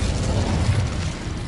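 An Incendio fire spell cast in Hogwarts Legacy gives a loud, sustained roaring burst of flame with a rumbling low end, heard alone for a moment.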